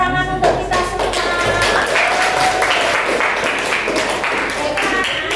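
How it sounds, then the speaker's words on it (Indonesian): Applause from a classroom of pupils at the close of a lesson, a dense steady patter of many hands clapping for about five seconds, mixed with voices. "Tepuk tangan untuk kita semua."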